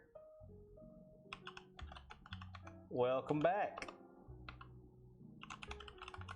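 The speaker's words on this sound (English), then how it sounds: "Lovely typing sounds in the background." Quick bursts of typing clatter on a computer keyboard over soft background music, and a person speaks briefly in the middle.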